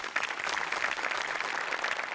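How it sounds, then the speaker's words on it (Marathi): Studio audience applause on the set of the Marathi comedy show Maharashtrachi HasyaJatra, a dense, steady burst of many hands clapping that holds evenly throughout without pause. "मोठे आणि अमोल पाटलांसाठी एकदा टाळ्या वाजव्या."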